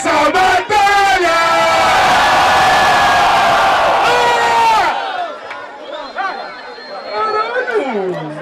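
Crowd at a rap battle final in Cabo Frio roars with loud cheering and shouting for about five seconds, then drops to scattered whoops and chatter as the noise settles.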